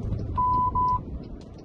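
A car's warning beeper sounds two steady electronic tones in quick succession, each about a third of a second long, clear and close over low road rumble inside the vehicle.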